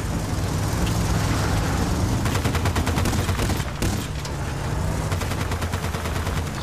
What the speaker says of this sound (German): Granaten schießen.